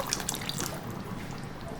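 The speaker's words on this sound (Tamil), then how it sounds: "புளி தண்ணி கரைச்சி எடுத்து சேர்த்துக்கோங்க" Tamarind water poured into a pan of simmering brinjal curry, a steady close liquid splash and trickle with light dripping throughout, no voices.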